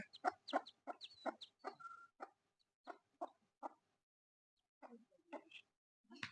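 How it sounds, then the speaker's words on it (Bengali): A mother hen clucks in quick rhythmic bursts near her ducklings, a series of short calls nearby, with a pause before a few more clucks resume. "এই হাঁসের বাচ্চার মা হলো এখন এই যে মা মুরগিটা"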